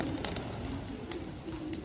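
Pet pigeons kept by a racing-pigeon keeper coo softly and repeatedly at close range, low throaty calls over a rustling background with no voices.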